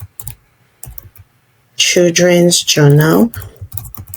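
Typing on a computer keyboard, with a few sharp, close key taps before and after a short stretch where a person speaks.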